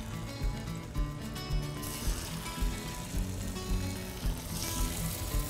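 Salt-and-pepper seasoned fish pieces for a bouillabaisse, cut to match scallops, hit a hot frying pan and sizzle steadily at close range, with faint stirring and pulsing crackle and no talk.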